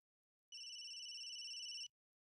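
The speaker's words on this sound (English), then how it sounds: "Cell phone ringing. The most annoying sound in the world." A cell phone ringing in a video game, a single steady electronic trill that holds for over a second and then stops abruptly, clear and alone against silence.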